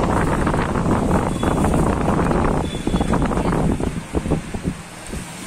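A Walton WPF24A-PBC tripod stand fan blows hard, making a loud, steady rushing whoosh of air right at the microphone that eases off slightly toward the end.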